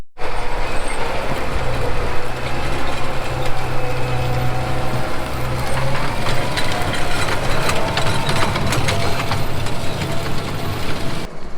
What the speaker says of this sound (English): I'm gonna jump in my sprayer and we're gonna head to the gravel pit